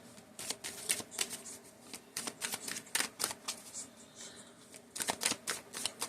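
Tarot cards are shuffled and laid out on a table, with bursts of crisp riffling and flicking slaps coming in clusters. The sounds are close and fairly soft, with short pauses between them.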